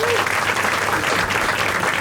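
A stand-up comedy crowd-work audience gives dense, steady applause for a couple, loud and close, filling the whole moment without a break.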